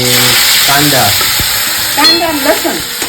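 Asafoetida tempering sizzles in hot oil, a steady frying hiss with spattering bursts that swell near the end, while voices talk over it.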